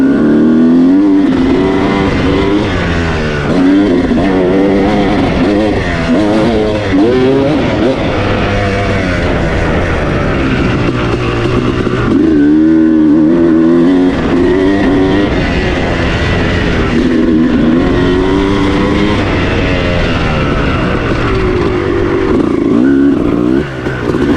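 A 2006 Kawasaki KX250 two-stroke dirt bike engine revs up and down continuously on a turn track, rising and falling in pitch with a raspy, buzzing tone throughout.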